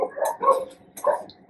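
Dogs barking in the background, a few short barks in two bursts, fairly loud and near, with brief pauses between.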